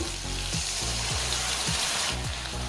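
Mustard and poppy seed paste, thinned with a little water, frying in hot oil; a dense close sizzle with bubbling crackle and a few soft scrapes of stirring, no voices.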